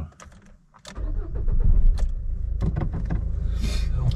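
Renault Clio 3 1.5 dCi diesel being started: a short crank, then the engine catches and settles into a close, steady diesel idle rattle.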